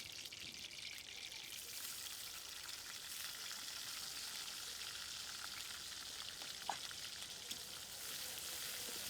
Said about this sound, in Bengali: এর ভিতর দিয়ে দেবো এখন পেঁয়াজ কুচি